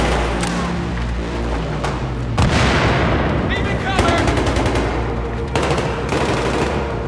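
Rapid gunfire in the video game Battlefield 3: sustained bursts of automatic rifle and machine-gun shots with sharp cracks and heavy thumps, loud and close, broken by short pauses over a rumbling battlefield background.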